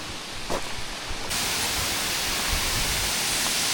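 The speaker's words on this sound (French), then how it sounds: "on voit pas bien mais on a le souffle de la cascade" A waterfall in Tahiti roars as a steady, dense hiss, quieter at first and then suddenly fuller and constant.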